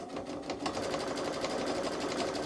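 A Babylock Solaris Vision sewing machine runs steadily, sewing a satin stitch across a quilted bag in a continuous fast needle chatter that stays close and even throughout.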